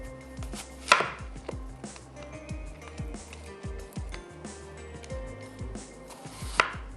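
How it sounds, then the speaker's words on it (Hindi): Apples are chopped into small cubes with a knife on a cutting board, giving a steady series of crisp close-up knocks, with a couple of louder thuds. "और एप्पल्स के कर लेते हैं क्यूब्स"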